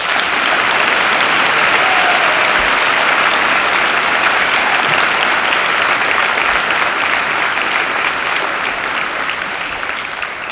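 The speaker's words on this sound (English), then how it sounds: "Let's give them a hand." A large audience at a high school Veterans Day ceremony applauds loudly and steadily for about ten seconds, a dense sustained clapping that eases slightly toward the end.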